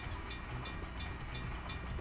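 Train from a video game rumbling past on its tracks, a steady continuous low roar with faint rattling, moderately quiet and alone without talk.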